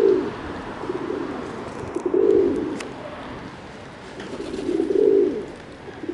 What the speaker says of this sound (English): I see two wood pigeons fighting out there too.